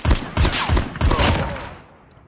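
A quick volley of four or five loud SP-R 208 marksman rifle shots in Call of Duty Mobile, in close succession, then a fading echoing tail, sharp and near.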